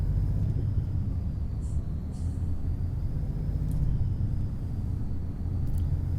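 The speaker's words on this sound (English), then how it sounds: "I was just listening to the engine." Volvo F88 truck engine in Euro Truck Simulator 2, a steady low rumble that holds for the whole stretch with no talking over it.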